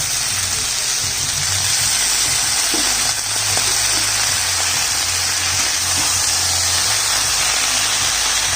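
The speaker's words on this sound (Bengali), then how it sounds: "সবজিটা একটু ভাজা হয়ে গেছে, এবার শাকটা দিয়ে দিলাম।" Vegetables with leafy greens fry in a pan on a vegetarian home stove, giving a loud, dense, unbroken hiss and sizzle close up, with a low steady hum underneath.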